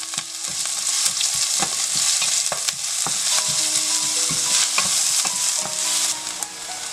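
Finely chopped onion frying in a pan for methi dumplings: a bright, constant sizzle broken by frequent scraping and tapping of a spoon as it is stirred.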